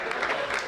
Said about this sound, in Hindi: थोड़ा तालियों का और उत्सव करिए